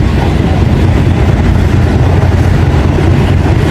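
Pakistan Railways passenger train on the Lahore to Peshawar line, heard from inside a carriage during rain: a steady, loud low rumble of wheels and carriage with faint rhythmic clatter as the train slows.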